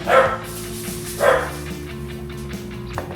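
A puppy gives two short barks, close by, separated by about a second, with a steady hum underneath and faint noises between them.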